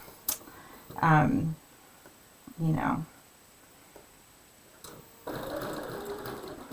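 A sewing machine stitches moon shapes for a mini quilt, running in three short bursts separated by pauses, the last run longer and steadier, close and clear with light handling clicks between.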